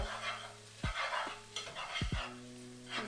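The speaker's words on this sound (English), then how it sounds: "you can hear that sizzling in there. That's the noodles cooking with the garlic" Noodles fry in a pan with garlic and olive oil, a steady crackling sizzle broken by a few sharp scraping stirs and clinks of the utensil against the pan.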